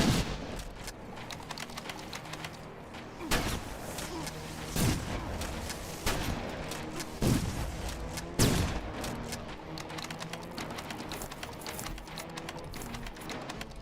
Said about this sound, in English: I finally get to use my conventional weapons.